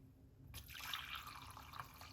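Liquid is poured into a cup, starting as a faint, soft splash and trickle that continues quietly for about two seconds, close and without talking.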